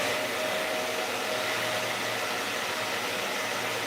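Dyson hair dryer blowing with a constant, even airy roar, close and loud, with no pause from start to finish.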